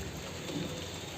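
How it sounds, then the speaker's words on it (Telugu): Steady rain falls outdoors over a home garden of gongura, mint and mango saplings, a soft, even hiss heard faintly and alone. "వర్షం పడుతుంది కదా"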